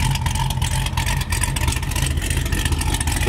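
A modified Cadillac CTS-V running on E85 with stock exhaust and no catalytic converters, its engine rumbling loudly with a deep, pulsing burble up close, revving steadily without pause.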